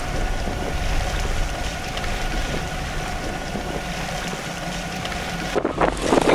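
A sailboat motoring into a harbor on the island of Dunsö in foul, windy weather, with a steady low engine drone and broadband wind and water noise throughout, and a louder gust or splash near the end.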